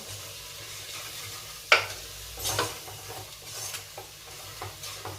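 Cleaned field beans tipped into a sizzling curry land with a sharp clatter, followed by repeated scraping stirs over a continuous close sizzle.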